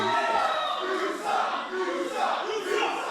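A wrestling crowd in Newburgh jeering at Mikey G, loud sustained chanting and shouting from many voices, rising and falling in waves.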